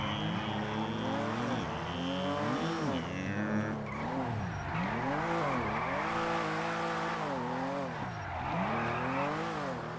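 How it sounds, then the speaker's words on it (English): A video-game car engine revs and whines in rising, falling sweeps, tires occasionally squealing, steady and moderately loud with no talking over it. "I lowered the sound a little bit so the engine isn't as loud."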